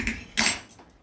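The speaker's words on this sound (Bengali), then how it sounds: "কড়াই বসিয়ে দিয়েছি" A kadai being set down on the stove for mustard oil, two close metallic clanks of the pan on the burner in quick succession, the second louder and ringing briefly, with no voices.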